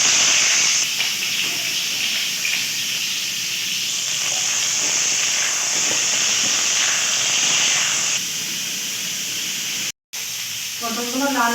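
Pieces of pointed gourd (potol) hiss and sizzle steadily in hot oil in a pan, a loud continuous frying sound close by that briefly cuts out near the end.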